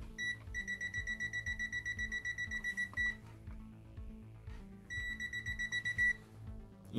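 An Aneng Q1 multimeter's voltage detector emits rapid, pulsing high-pitched beeps for a few seconds, pauses, then beeps again more briefly, over a low background hum.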